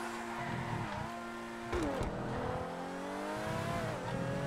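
A race car engine in GTA FiveM drones steadily at high revs, its pitch dipping at a gear change or braking near the two-second mark, then climbing again, close and continuous with no talk.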